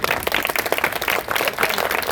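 Crowd at a street protest in Lansing clapping their hands together, a busy patter of many claps at moderate volume with no speech over it.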